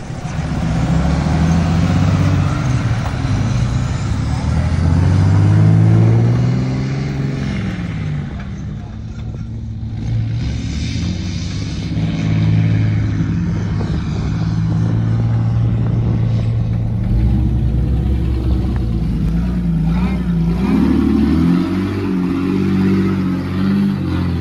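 Off-road track truck Black Betty, owned by Wheel Murphy, drives at an off-road games event at Windrock, its engine droning and revving steadily with a low rumble, close and loud, while people talk over it.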